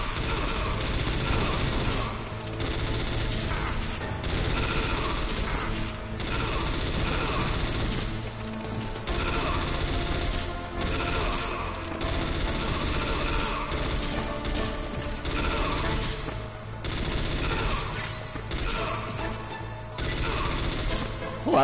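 Continuous loud gunfire and explosive crashes fill a Metal Gear Solid firefight, dense overlapping shots and impacts running throughout with occasional talking underneath.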